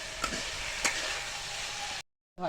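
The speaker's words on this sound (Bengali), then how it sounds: "টমেটো পেঁয়াজ লঙ্কা জিরে ধনে কাশ্মীরি লঙ্কার গুঁড়ো একবারে পেস্ট করে নিয়ে এসেছি একটু এটা আগে একটু ভাজা ভাজা করে নিই" A paste of tomato, onion, chili, cumin, coriander and Kashmiri chili powder frying in a pan, giving a steady close sizzle with a couple of sharp stirring clicks. It breaks off into brief silence near the end.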